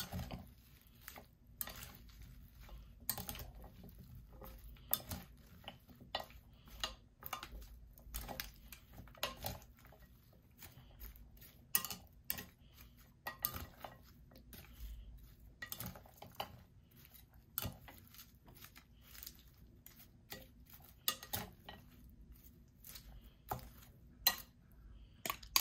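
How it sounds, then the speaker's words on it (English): Utensils toss a healthy salad in a bowl, making soft irregular clinks, scrapes and pats in quick uneven bursts, faint and close with no talking. "now the final step is to mix like this. You need to mix well."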